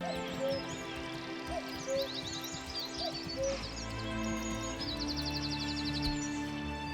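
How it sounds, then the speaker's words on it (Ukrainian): Birds sing and chirp in a forest in the medieval city-building game Manor Lords: repeated high twittering calls and fast trilling phrases over a soft ambient bed, with some low rumble and clatter underneath. "чує звуки пташок у лісі"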